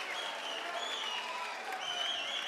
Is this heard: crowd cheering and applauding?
yes